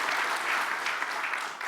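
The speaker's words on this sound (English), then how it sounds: "A round of applause to Riccardo and his commitment" A room full of people gives a round of applause for Riccardo at a CERN welcome gathering, dense steady clapping throughout that fades slightly at the end.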